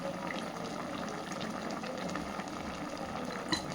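A pot of green banana chorchori curry boils under its lid, giving a steady close bubbling and simmering hiss throughout with a small clink near the end.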